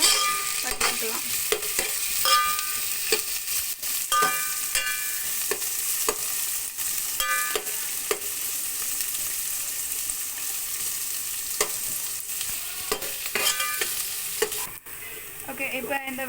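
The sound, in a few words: onions and green chillies sautéing in a pan for mushroom biryani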